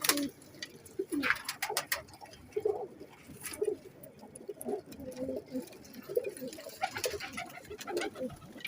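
Soft, low pigeon coos repeating at intervals, close by, over a rustling background with occasional light clicks and flutters.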